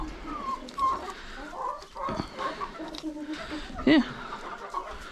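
Hens on a ranch cluck softly and intermittently around the coop, one louder squawk standing out near the end, with a brief spoken word in between.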